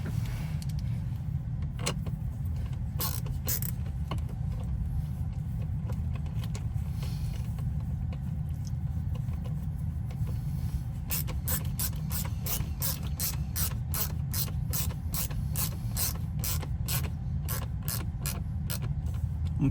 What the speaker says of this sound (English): Let me have a go at neatening the thing up at the bottom and getting the screws in